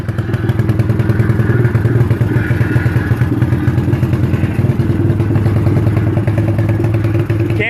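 A 1983 Suzuki LT125 runs while being ridden, its engine a continuous close, rattly putter with rhythmic thumping and clatter from vibration throughout.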